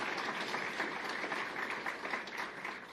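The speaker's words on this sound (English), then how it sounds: "a big round of applause for former Senator Roy Blunt" Brief, faint applause from an audience of disability advocates at an event where former President Biden speaks, soft and distant-sounding without clear voices.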